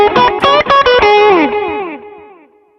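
Electric guitar runs through the S Gear 3 amp simulator on its tube setting, a quick distorted phrase of picked notes and slides that rings out with a long, fading sustain, close and alone.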